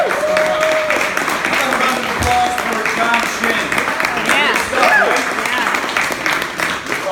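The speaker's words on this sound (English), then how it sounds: "let's give him a big round of applause" An audience at a business branding event applauds a speaker, a loud, dense, sustained wash of clapping with voices and cheers mixed in.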